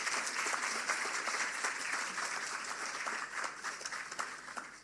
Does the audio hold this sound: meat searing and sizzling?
no